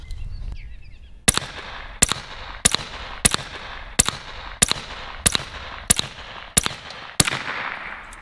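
A Western Rattler bullpup air rifle fires pellets at a paver: about ten sharp, evenly spaced cracks roughly every 0.7 seconds, each with a quick impact and short decay, fairly close over a quiet outdoor background.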